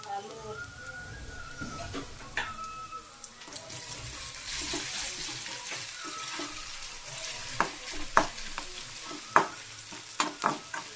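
Snacks frying in hot oil in a home kitchen, a steady hiss with stirring and utensil clicks, sharper clatters near the end, and voices faintly in the background.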